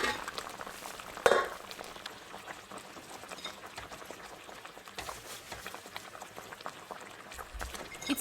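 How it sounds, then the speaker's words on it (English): Pumpkin puree cooks gently over a low flame in a pot, giving a soft continuous bubbling and simmering hiss, with one sharp metallic utensil clink early on. "I continue to cook the pumpkin puree in very low flame until it is soft."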